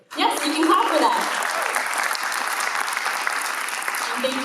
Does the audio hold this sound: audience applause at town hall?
yes